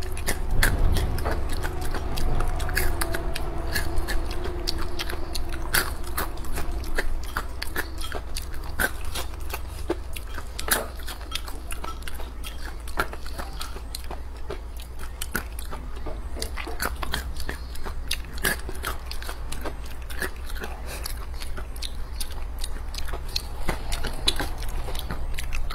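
Close-up biting and chewing of stir-fried pickled peppers with pork belly and Sichuan-style spicy dried food, with wet crunchy chews and soft mouth clicks repeating steadily for the whole stretch, loud and near, with no talking.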